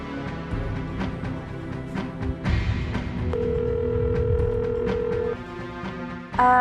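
A steady electronic telephone ringback tone holds for about two seconds over a busy, music-like background, ending with a brief louder burst.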